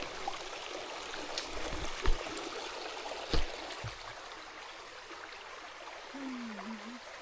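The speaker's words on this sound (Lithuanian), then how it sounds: "Turim tokį vat kriokliuką." A small waterfall stream on the Kungsleden trail gives off a faint, steady rushing and trickling, with a few soft knocks and splashes close by and no talking.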